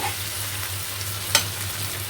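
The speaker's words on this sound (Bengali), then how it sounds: "আলু আর পেঁয়াজটা ভাজা ভাজা হয়ে গেছে" Potatoes, onions and tomatoes fry gently in a pan with a steady sizzle, a low hum underneath and one sharp tap of a utensil.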